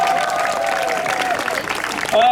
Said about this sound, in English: Proper applause